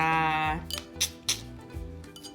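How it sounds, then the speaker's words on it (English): Ham scooted into a dish with utensils: a few sharp clinks and scrapes of metal against dishware, close by, after a sustained tone fades out at the start. "I'm gonna take all my ham and I'm gonna scoot it in there"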